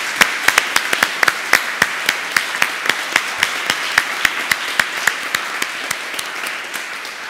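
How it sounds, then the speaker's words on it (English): Audience at a PyCon lightning-talks session applauding the commercial sponsors, a sustained round of many hands clapping with sharp individual claps standing out, moderately loud and steady throughout, with no talk over it. "still they deserve a round of applause"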